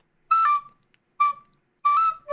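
A person whistles the opening of the F-Zero theme in three short melodic bursts separated by brief pauses, clear and close with no talking.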